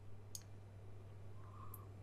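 Computer mouse clicks, two short sharp taps about 1.4 seconds apart, sit over a steady low electrical hum in a quiet room.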